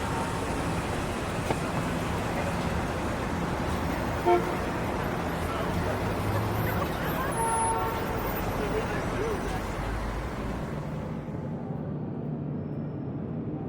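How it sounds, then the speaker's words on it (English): City traffic roars steadily with a short honk of a car horn near the middle, and the din cuts off abruptly toward the end. "You hear the roar of a variety of traffic, and you hear noises that assault your ears."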